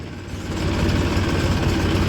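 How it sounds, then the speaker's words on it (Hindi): A Farmtrac tractor pulling a tipper trolley loaded with sugarcane runs steadily near a sugar mill. Its low diesel engine throb is loud and continuous throughout, with no talking. "दोस्तों एक और आ रहा है भैया का फार्म ट्रैक टिपलर लेके"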